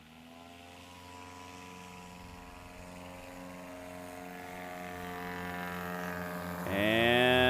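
A Scout light aircraft revs up for takeoff at a STOL competition, its propeller engine droning steadily and growing louder before surging to full power near the end.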